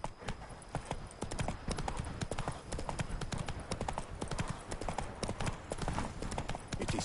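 Horse hooves clip-clopping at a steady trot in The Witcher Wild Hunt video game, a continuous close rhythm of sharp hoof strikes with no speech over it.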